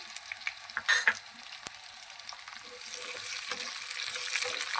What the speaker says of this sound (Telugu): పచ్చిమిర్చి సగం వేగిన తర్వాత మనం పల్లీలు కూడా వేసేసుకుందామండి.